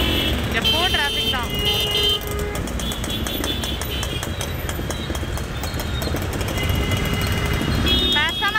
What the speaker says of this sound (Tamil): பயங்கர டிராஃபிக் ஜாம்.